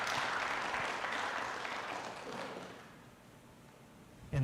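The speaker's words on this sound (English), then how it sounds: "Let's give them a round of applause and appreciate all of" City council meeting audience applauding police officers, the clapping dense at first, then thinning and fading to quiet before a sudden louder sound at the very end.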